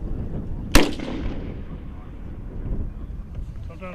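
A US Army M3 Carl Gustav recoilless rifle fires once, a single sharp loud blast followed by a long rumbling decay outdoors in wind.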